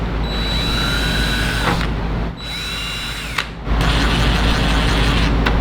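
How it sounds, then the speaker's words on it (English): A power drill drilling a pilot hole in plastic for tiny screws on a Ferrari 458 exhaust tip whirs loudly in three bursts, its motor pitch dipping as it bites, with short pauses between each run. "I have to drill a pilot."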